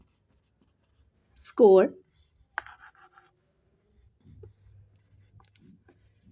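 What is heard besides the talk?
writing on paper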